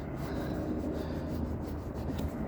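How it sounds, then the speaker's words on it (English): A wet fingertip rubs dirt off a plastic interior trim piece in a 2021 Cadillac CT5, giving a soft, steady, close-up scuffing friction that continues without pause. "I licked my finger and rubbed that"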